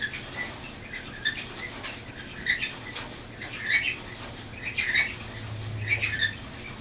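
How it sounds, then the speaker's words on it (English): A running clothes dryer squeaks over and over, thin high-pitched squeals repeating in an uneven rhythm above a low tumbling rumble, with no voices. "going in there so you can hear our dryer"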